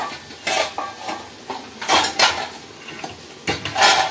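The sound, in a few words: raw washed chicken being added into a pot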